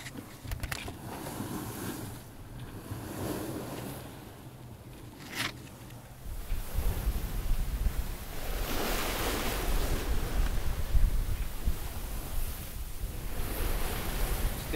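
A solo sailboat making 7-8 knots into the wind on the ocean between Tenerife and Portugal, with steady rushing water and wind noise that swells louder halfway through, a broad continuous wash.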